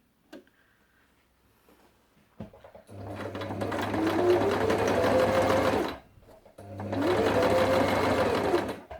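A Lidl-brand sewing machine stitches fabric in two steady bursts, each a few seconds long, with a low motor hum and a rapid needle clatter, separated by a short pause and preceded by quiet handling.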